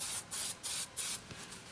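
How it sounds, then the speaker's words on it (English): Three short aerosol bursts of rust protectant sprayed onto a rag in a workshop while cleaning rust from a drill press, each hiss roughly a quarter second long, evenly spaced, close and clear, followed by faint quiet. "I just spray a little bit on a rag."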